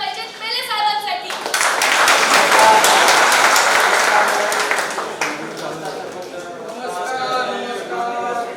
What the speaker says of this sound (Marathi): जोरदार टाळ्या झाल्या पाहिजेत मेले साहेबांसाठी।